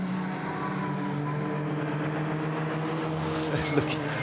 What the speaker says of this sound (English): look at the car just understeering through the corners